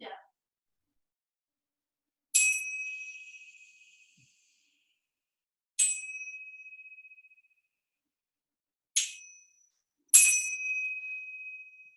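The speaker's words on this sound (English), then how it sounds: "You're going to hear the chimes 3 times" Chimes rung in a quiet kids yoga class, four clear bright metallic strikes each ringing out and fading, spaced a few seconds apart in near silence.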